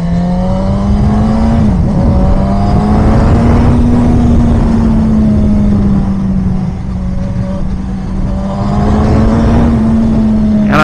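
A Suzuki GSX-S 1000 motorcycle engine revving steadily up close, a loud continuous roar with slight rises and dips in pitch throughout, heard alone.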